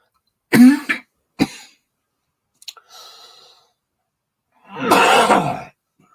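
Several separate coughs and throat-clearing bursts, close and loud, with quiet breathing between them and one long harsh cough at the end, in Arlington, Vermont.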